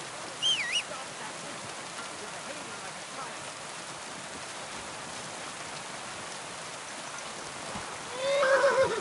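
A horse in the Kingdom Come 2 video game whinnies twice, once near the start and again louder at the end, over a steady hiss of falling rain.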